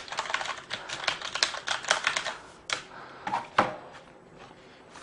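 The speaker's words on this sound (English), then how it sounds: "It's a really slick mechanical key. It's quite a loud typer." Fast, loud clacking on a Corsair Vengeance K90 mechanical gaming keyboard, a dense run of close keystrokes with a few heavier strikes and a brief lull near the end.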